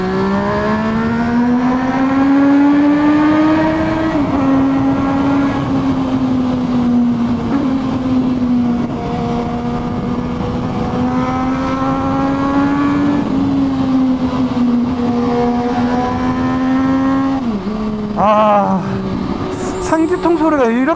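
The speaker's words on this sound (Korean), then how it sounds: "상기통 소리가 이렇게 아름다웠나요?" An MV Agusta Brutale 675 three-cylinder motorcycle engine revs loudly and close for a long stretch, its pitch climbing and dipping through the rev range, with quick sharp blips near the end.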